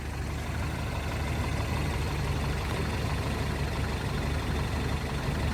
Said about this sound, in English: But motor sounds great.